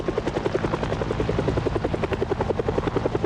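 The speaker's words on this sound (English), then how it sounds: "this fucking helicopter is so loud" A helicopter flies overhead in the video game Project Zomboid, its rotor chop a loud, steady, fast beating that fills the whole stretch without any voices.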